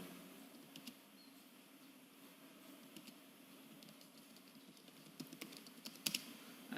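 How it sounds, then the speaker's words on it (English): Faint, sparse keystrokes on a computer keyboard while typing into a word processor, a few scattered clicks over a steady low room hum, with a slightly busier burst near the end. "suppose if you want to type something, you can start typing here"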